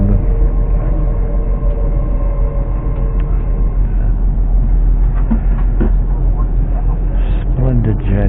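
An LNER train travels into London with a loud, steady rumble and rattling carriage noise heard from on board, while someone talks over it.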